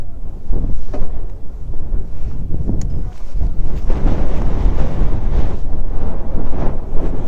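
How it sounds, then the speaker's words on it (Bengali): A strong gusting wind blows across a mountain lake at Kalipokhri on the Nepal border and buffets the microphone with loud, rumbling, continuous roar and no speech. "প্রচুর হাওয়া দিচ্ছে।"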